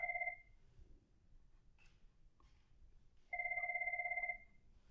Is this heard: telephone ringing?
yes